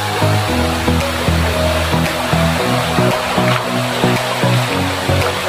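Curug Lawe waterfall on Mount Ungaran roars as a continuous broadband rush of falling water, with low, steady tonal notes of music layered underneath.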